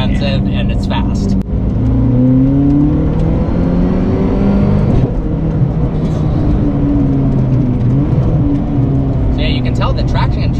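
A Zenvo hypercar drives along a winding road, its engine droning loud and close with rising and falling revs and shifting tones, and people talk over it throughout.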